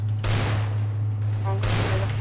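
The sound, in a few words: gunfire in a video game, Counter-Strike Dust map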